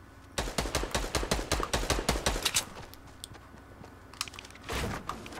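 Submachine gun fire in Fortnite Battle Royale: a rapid burst of close, evenly spaced shots lasting about two seconds, followed by quieter scattered clatter and a final short blast.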